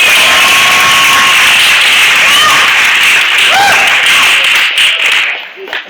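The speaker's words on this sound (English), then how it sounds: "how about we give me a round of applause" Party audience applause at a graduation party, loud continuous clapping and cheering from a crowd close by, holding steady for several seconds before tapering off at the end.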